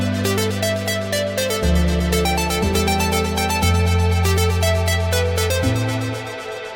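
Synth melody with reverb and delay added, bright repeating notes over sustained low chord pads that step through changes, echoes trailing off each note, steady and loud with no voices.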